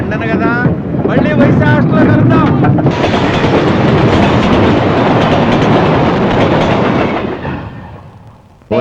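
Train gathering speed on the rails: a loud, close, continuous rumble and rushing roar that swells after the first few seconds, holds steady, then fades near the end, with voices over the opening moments.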